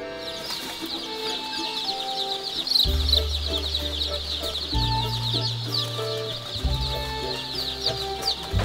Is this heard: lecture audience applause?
no